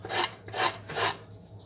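Lemon zest being grated for homemade mincemeat, three slow rasping strokes close by, fairly quiet, with no voices.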